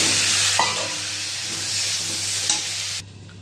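Boiled taro and potato pieces go into a hot frying pan of curry, giving a steady loud sizzle and hiss with a few stirring scrapes before the frying noise cuts off sharply near the end.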